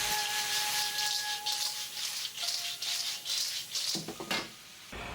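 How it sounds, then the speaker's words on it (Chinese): Chongqing-style spicy clams with scallions and rattan pepper oil are tossed in a wok, giving bursts of hissing sizzle and scraping, rubbing stir strokes up close. A short clatter of metal and shells comes near the end. "撒上一把葱花，稍许翻炒就差不多可以了"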